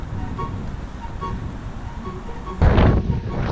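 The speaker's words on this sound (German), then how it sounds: "Und es ist extrem windig." Strong wind buffets the microphone inside the walls of Bratislava castle in drizzly weather, a steady rumbling roar that swells into a loud, heavy gust near the end.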